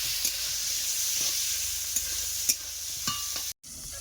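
Slit green chillies and salt sizzle in a pan with a steady, moderate hiss, punctuated by a few soft stirring knocks and a brief dropout near the end.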